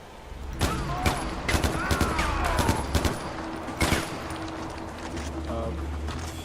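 Scattered video game gunfire in the jungle shooter Far Cry 4, sharp shots and short volleys over outdoor ambience, moderately loud, with people talking over them.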